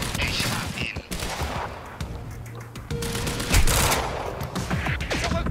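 Rapid gunfire in Quantum Break during a sniper firefight, dense crackling bursts and shots running throughout at close, loud level, with brief speech mixed in.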